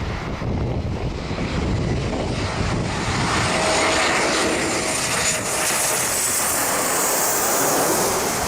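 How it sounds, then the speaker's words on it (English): An Embraer 190 jet makes an emergency landing without its nose gear in the Bahamas, its nose held up. A loud, steady engine roar blends with wind rumble throughout, with no voices. "This Embraer 190 had to make an emergency landing without its nose gear."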